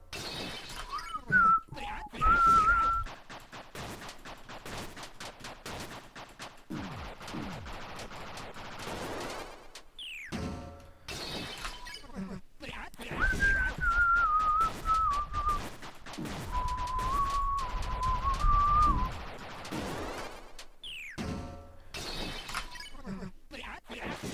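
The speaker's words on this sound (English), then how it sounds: "We don't get the music, but we get whistling." Tuneful whistling rises over a busy video game soundtrack full of sharp, rapid cracks and shattering hits, with two clear whistled passages separated by quieter stretches.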